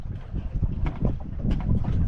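Wind gusting across an open lake around a small paddled boat, a steady broadband rush buffeting the microphone at close range, swelling in strength toward the end with no voices.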